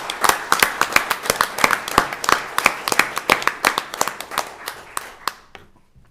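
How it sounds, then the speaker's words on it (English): Sparse applause from a small audience at a county board of commissioners meeting, a few hands clapping in a loose, uneven rhythm for about five seconds before tapering off into near silence. "Everybody, please give them a round of applause."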